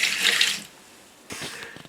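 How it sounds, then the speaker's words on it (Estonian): Liquid pours into a disinfected bucket while home-brewing kvass-style homemade beer, a loud broadband splashing gush for about half a second, then quieter trickling and dripping toward the end. "nüüd valame selle kogu kopatuse desinfitseeritud ämbrisse"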